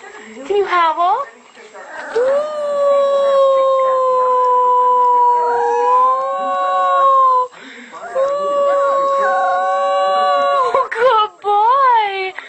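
A young puppy howls close by in several long, sustained, wavering calls separated by brief pauses, with short whimpering yelps at the start and near the end.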